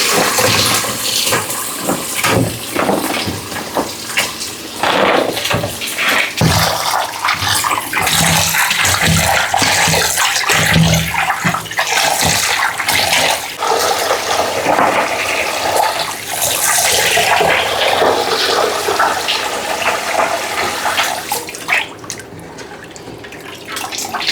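A goat head is rinsed a second time in plain water, giving a loud, continuous rush and splash of running water close by for the whole stretch, with no talking.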